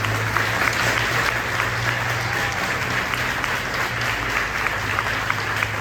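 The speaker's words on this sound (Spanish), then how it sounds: "vamos a darle un aplauso al Espíritu Santo" Sustained applause from a crowd at a religious retreat, steady clapping filling the whole stretch at an even, fairly loud level.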